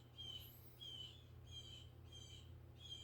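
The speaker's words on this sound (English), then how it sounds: "The Blue Jays." Blue jays squawking outdoors, a series of repeated, fairly faint calls in a regular rhythm over a steady low hum.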